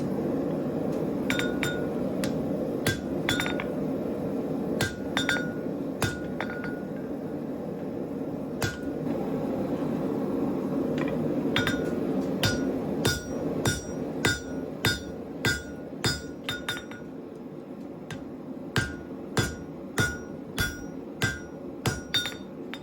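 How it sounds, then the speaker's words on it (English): A hand hammer strikes Damascus steel for a chef's knife, with dozens of sharp ringing metallic blows. They come irregularly at first over a steady roar, then in a faster regular rhythm as the background drops away. "I use the hand hammer to shape the steel slightly in order to preserve some material."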